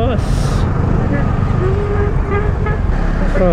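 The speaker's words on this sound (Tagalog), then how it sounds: "Traffic." Street traffic with cars passing and short car-horn toots over a constant roadway roar; a voice is heard faintly in the mix.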